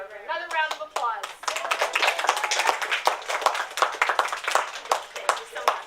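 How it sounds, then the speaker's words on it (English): People clap at a board of education meeting honoring a Teacher of the Year, brisk scattered handclaps from a modest group, starting under a brief spoken voice and then continuing as steady applause for several seconds. "Another round of applause."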